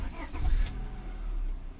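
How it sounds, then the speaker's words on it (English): A car engine cranks and catches, then settles into a steady low idle rumble, close by and fairly loud, with no speech over it. "Hopefully my car will go."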